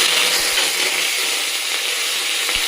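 Urad dal and chana dal fry in hot oil as a tempering for a pepper pumpkin fry, giving a loud, steady, close-up sizzle with no talk.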